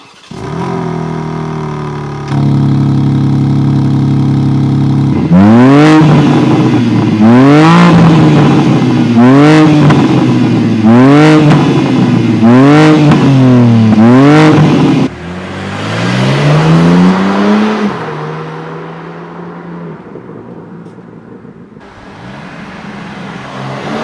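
A 2025 BMW M4 Competition Convertible engine revs up through a series of quick gear changes, each rising pull ending in a sharp shift. It is loud and close, then settles into a steadier drone and fades.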